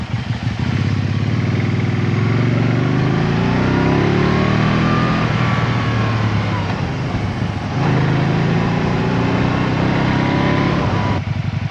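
Can-Am Spyder RSS three-wheeler fitted with an HMF Racing exhaust, revving in loud, close throaty swells that rise and fall twice, with a brief dip near the middle and a steady engine rumble throughout.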